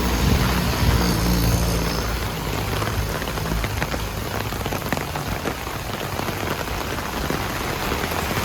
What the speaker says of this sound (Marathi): आज जबरदस्त पाऊस आहे भांडूपमध्ये.